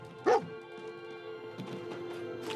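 A dog in the Fallout 4 video game gives one short, sharp bark near the start, then a few faint whimpering yips over low background game sound.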